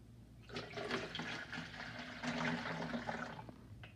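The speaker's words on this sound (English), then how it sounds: "put your half a cup of hydrogen peroxide in the bottle, and a funnel helps so that you do not spill it all over" Hydrogen peroxide, half a cup, pours through a funnel into a bottle for an elephant's toothpaste experiment, making a faint, continuous gurgling trickle for several seconds before tapering off.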